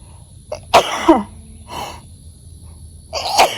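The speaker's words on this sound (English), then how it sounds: "Oh, I'm about to sneeze" A sharp, close sneeze bursts out, followed by a couple of softer breathy sounds in a quiet garden setting.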